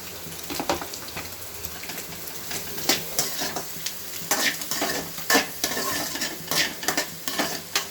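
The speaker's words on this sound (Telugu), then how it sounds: "ఆనియన్, పచ్చిమిర్చి కొంచెం ఫ్రై అయిన తర్వాత" Onion and green chilies fry in a pan, giving a steady close sizzle while a spoon repeatedly stirs and scrapes against the metal. No one speaks.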